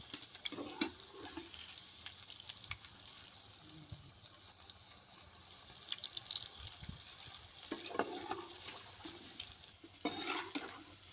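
Chana dal and spinach pakoras sizzling in hot oil, a soft continuous frying hiss with occasional louder bursts and stirring scrapes as the fritters are turned, fairly quiet and close.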